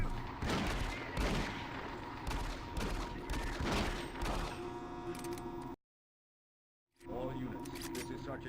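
Rapid gunfire in the shooter Doom 3 sounds as a string of sharp, close shots in irregular bursts, with metallic clanks between them. A brief silence follows, then the shooting resumes.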